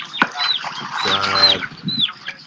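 A loose chicken clucks and squawks close by in a crocodile village in Burkina Faso, a burst of agitated calls mixed with brief wing flapping and no speech.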